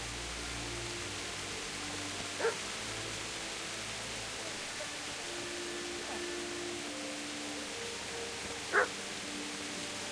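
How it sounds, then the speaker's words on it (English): A dog barking in the Kingdom Come Deliverance video game, two short barks a few seconds apart, fairly distant and faint, over a quiet ambient background. "I hear you, dog."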